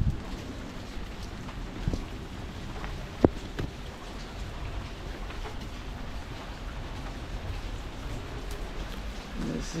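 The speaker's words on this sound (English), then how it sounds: "Today it's actually raining." Rain falls in a soft, steady hiss outdoors during a walk with an umbrella, faint and continuous, with occasional small knocks and taps.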